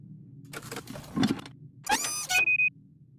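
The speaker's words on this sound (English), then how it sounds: "Use one of the gears in your inventory with the engine of the town model." A gear being fitted into the engine of a town model in an adventure video game, heard as a few quiet mechanical clicks and clunks, then a brief whirring and a sequence of short metallic tones.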